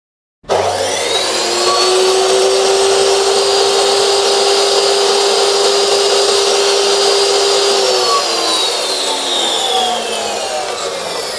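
A Hasston Art. 3085-003 electric cut-off machine starts up and runs without load. Its loud, steady high-pitched whine holds for about ten seconds and then eases slightly toward the end.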